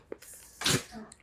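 A dog gives a single short, sharp sneeze close by, a quick breathy burst amid quiet indoor surroundings, with a few faint soft sounds before and after.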